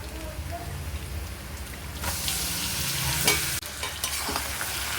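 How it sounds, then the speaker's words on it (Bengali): Marinated chicken tipped into a pan of reddish fried onions for chicken bhuna, a quiet background sizzle that swells into a loud, hissing crackle as the meat lands, then keeps frying steadily. "এবার এতে আমি তুলে দেবো এই ম্যারিনেট করা চিকেনটা"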